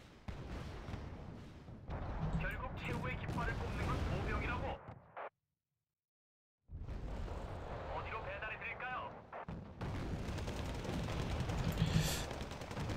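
Paired machine guns chatter in bursts during a Wargame: Red Dragon battle, sustained rattling fire with a brief silent gap midway, someone talking over it.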